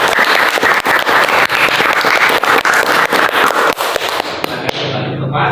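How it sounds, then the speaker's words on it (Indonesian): Eighth-grade children in a classroom applaud after a poem reading, loud busy clapping with sharp individual claps popping through, fading out abruptly near the end. "Ya, tepuk tangan anak-anak."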